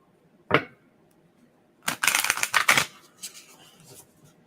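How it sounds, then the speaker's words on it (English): Large, heavy-duty oracle cards are shuffled from the side: a single brisk riffle, a pause, then a longer burst of papery flicks and slaps, followed by a few softer card taps, close and quiet. "the reason I shuffle these from the side is they're big cards and they're really heavy duty"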